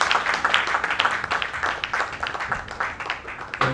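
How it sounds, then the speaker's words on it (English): An audience applauds a chairman being welcomed at an institute investiture ceremony, a dense, steady patter of many hands clapping that stays loud throughout without any speech. "Please, a round of applause."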